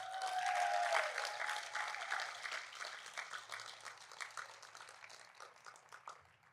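Audience at a city amphitheater and courtyard grand opening clapping for the assistant city manager, applause starting full over a fading tone and thinning gradually into scattered claps.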